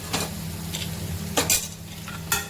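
Brinjal bhaji with drumsticks frying in oil in a pan, a low continuous sizzle broken by a few short bursts of spoon scraping and stirring, close and moderately loud, no voices.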